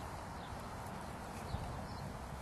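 A four-year-old Tennessee walking horse's hooves clip-clop softly at a ranch, a faint, steady walking rhythm under broadband background noise.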